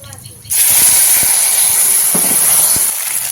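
A paste of cumin, green chili and ginger hits a hot pan for a bean-seed vegetable curry. It bursts into a loud sizzle that then holds as a steady, close hiss, with a few faint clinks.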